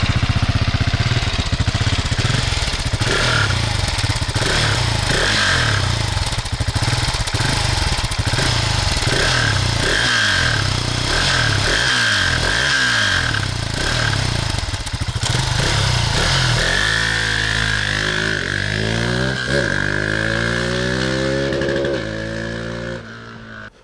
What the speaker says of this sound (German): dem extrem leistungsstarken Motor für so einen Einzylinder